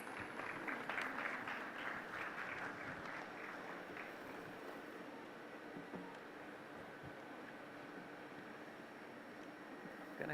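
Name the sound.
audience applause welcoming a speaker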